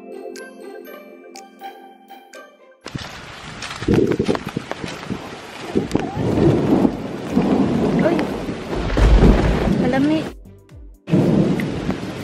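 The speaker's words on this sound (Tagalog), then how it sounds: "Ulan na" Rain pours hard on a street during a thunderstorm, with deep rolls of thunder rumbling through the downpour; soft music plays at the start before the rain cuts in loudly.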